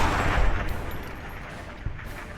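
Gunfire in Fallout: Tale of Two Wastelands during a fight with a Reaver: a rough burst of shots at the start fading into a noisy tail, then one sharp shot near the end.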